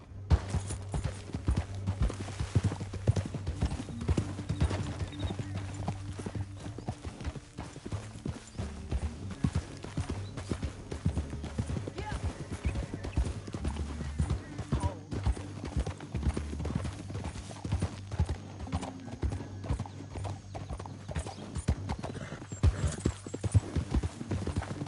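Horse hooves clip-clopping in Red Dead Redemption 2, a steady rhythmic trot running throughout with faint occasional neighs, alongside a low droning game soundtrack and very little speech.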